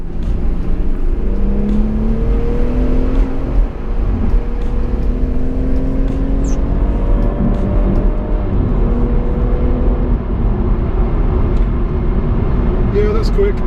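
A BMW M140i accelerating hard, its engine note rising steadily through the gears with layered whining tones, loud and continuous from inside the car while someone talks over it.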